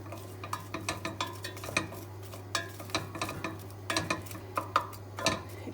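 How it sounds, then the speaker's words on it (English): Onion and garlic with a little pepper sweat in a pan, stirred with a utensil that clicks and scrapes against the pan in irregular bursts over a soft sizzle and a steady low hum. "onion and garlic, and sweat them off. It doesn't matter if a bit of pepper goes in there, but you can just stir it around"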